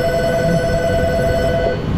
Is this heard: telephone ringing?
yes